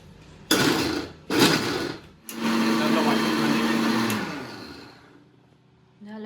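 A mixer grinder purees broccoli for cream of broccoli soup in a home kitchen, with two short loud whirring pulses followed by a longer steady grind that winds down to quiet.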